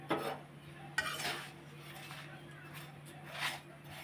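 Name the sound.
frying flatbread in a pan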